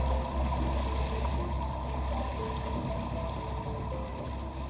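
A sailboat's diesel engine drones at a steady low hum while the boat motors offshore in very light air, with water wash around the hull and no voices.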